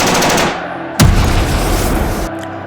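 A gunfire sound effect of British troops firing on protesters, a loud sustained volley of rapid shots with one sharp heavy bang partway through, then an abrupt cutoff.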